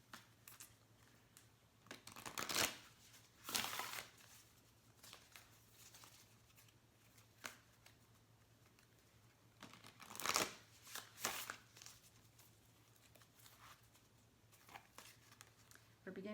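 Oracle cards being shuffled and pulled by hand give soft papery riffles and slaps in scattered bursts over a quiet room hum, close and fairly faint.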